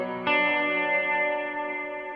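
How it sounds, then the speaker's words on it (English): Electric guitar swell through a big, wet reverb pedal: a chord fades in smoothly and sustains with a shimmering, moderately short reverb tail, alone and fairly loud. "I have this one for swells. And it's a bigger reverb, but the trails still aren't super long."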